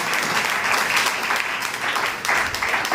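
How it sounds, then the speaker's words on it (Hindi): A church congregation claps for Jesus Christ during a bishop's Hindi-English sermon, a dense, steady burst of many hands filling the hall for about three seconds with no speech over it. "ताली बजा दे यीशु मसीह के लिए"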